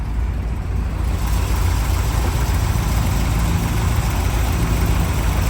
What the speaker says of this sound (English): There's your 365 horse, 327 V8 engine.